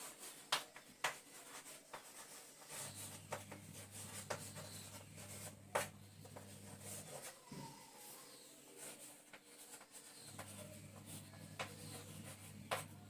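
Faint scratching and tapping of handwriting on paper, quiet and intermittent, with a low steady hum running underneath in stretches.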